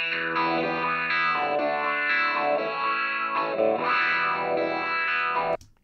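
A Hornet WahWah plugin sweeps around a higher, treble-heavy range on a distorted, chorus-tinged sustained tone, with a rhythmic wah motion pulsing steadily throughout before cutting off abruptly at the end.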